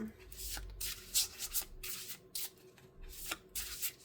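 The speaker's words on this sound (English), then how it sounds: "I wasn't finished shuffling yet." Soft papery riffling and rubbing of tarot cards in short bursts, close by, with a brief pause between shuffles.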